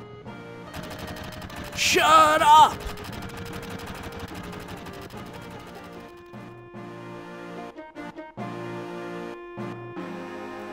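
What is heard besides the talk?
fireworks in video game Final Fantasy VII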